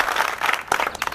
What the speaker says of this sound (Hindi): इसलिए सुरेश के लिए आप लोग सब तालियां बजाएंगे